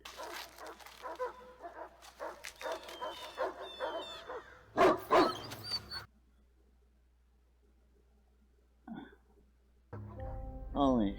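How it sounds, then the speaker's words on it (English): Dogs barking in the 2002 film Signs, several quick excited barks and yips in bursts over the first half, mixed with voices, then a quieter stretch with a sharp sound near the end. "Dogs are freaking out."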